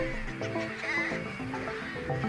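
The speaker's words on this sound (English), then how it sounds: "The squawk of carrion crows circling overhead drowns out the city sounds." A flock of carrion crows squawks while circling overhead in a city, with harsh, overlapping caws forming a loud, continuous chorus.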